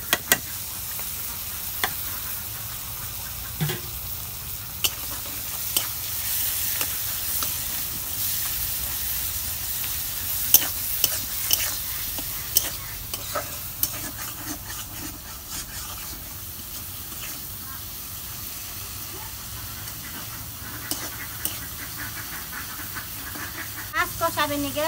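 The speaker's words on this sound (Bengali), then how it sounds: "মশলা দিয়ে দিছি, এখন আমি কষে নেব" Spiced dried fish (shutki) being stir-fried in a pan, a low sizzle and hiss under repeated spatula scrapes and clanks against the pan, with a voice talking at times.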